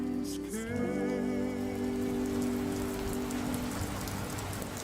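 Steady rain patters on a surface as a continuous wash of noise, with a sustained tone ringing through the opening seconds before fading under the downpour.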